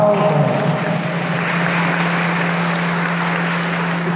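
A Mass congregation clapping in welcome, a sustained round of applause with a low steady hum underneath.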